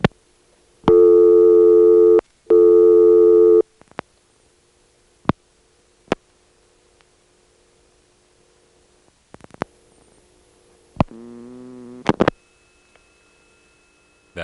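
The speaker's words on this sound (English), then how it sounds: "It's the motor switch running past many terminals and finally arriving on the one that has our outgoing trunk." Siemens motor switch in a Salt Springs, Florida telephone exchange, 1978, hunting across contacts: busy-signal bursts and sharp clicks open the call, then a short low groaning whir arrives near the end beside faint tones.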